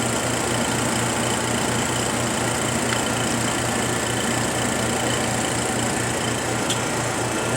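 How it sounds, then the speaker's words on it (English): A small diaphragm vacuum pump runs beneath a K&S 4124 wire bonder, giving a steady, continuous mechanical hum with a low pulsing throb, constant in level and unbroken throughout. "I have it hooked up to a diaphragm pump underneath here."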